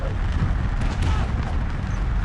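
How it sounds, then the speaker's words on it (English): A dense, roaring explosion from the wrestling video game Wrestling Empire, set off in the ring during a no-DQ deathmatch, as a loud, sustained, rumbling blast that fills the whole stretch without a break. "an explosion taking place in the ring"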